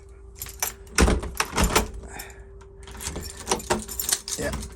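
Keys jangle and scrape as they are tried in a door lock during locksmith work, in several bursts of metallic clinking with a lock clunk and a steady hum, while people talk quietly in between.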